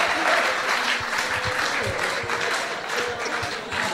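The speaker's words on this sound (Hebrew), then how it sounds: "מחיאות כפיים." Audience applause fills a lecture hall at a rabbi's talk, steady dense clapping from a large crowd, loud and continuous throughout with no break.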